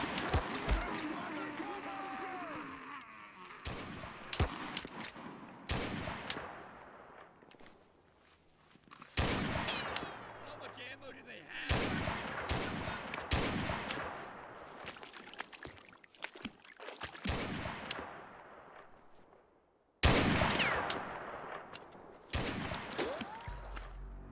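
Rapid bursts of video game gunfire crackle in dense volleys with brief pauses, loud and close, while a voice shouts over parts of the firefight.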